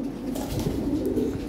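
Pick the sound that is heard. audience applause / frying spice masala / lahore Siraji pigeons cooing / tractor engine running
lahore Siraji pigeons cooing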